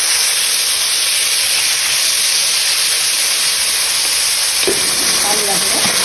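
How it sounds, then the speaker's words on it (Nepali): Chopped tomatoes fry in oil for an okra pickle, giving a loud, unbroken hiss of sizzling with a brief clatter of stirring near the end. "यसमा अघि काटेर राखेको गोलबेरा पनि भुटिदिनु।"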